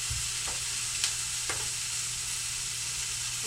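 Onions frying in a pan give a constant close sizzle and hiss, broken by a few light spoon scrapes and taps as they are stirred, with no voices.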